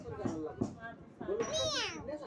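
A small girl at home gives a high, wavering meow in imitation of a cat, mixed in with her babbling while an adult talks softly alongside.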